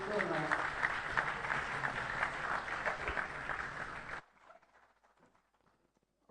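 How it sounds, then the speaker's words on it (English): Audience at the Merck Foundation Africa Asia Luminary 2025 conference in Banjul, The Gambia applauds: dense, steady clapping for about four seconds, then it stops abruptly, leaving near silence. "Another round of applause to the First Lady of the Democratic Republic of Sao Tome and Principe."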